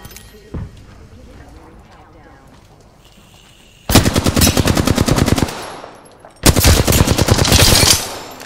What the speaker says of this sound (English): Hey, someone's shooting at me.